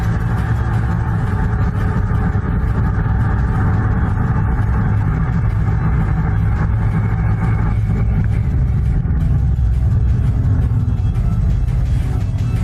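A 2017 Nissan GT-R Nismo roars under hard acceleration at high speed up a mountain road, a loud, continuous engine drone with wind and road rumble throughout.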